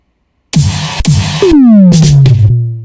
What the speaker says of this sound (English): we have kind of like a couple snares, and then we have like a sub drop, and then a fill